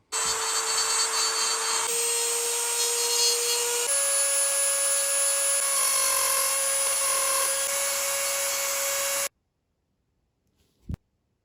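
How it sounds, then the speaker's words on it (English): A Dremel rotary tool sands down the heads of small model figures with a steady high-pitched whine that changes pitch slightly a few times, then cuts off abruptly into near silence before one faint tap. "sand it down with my Dremel tool"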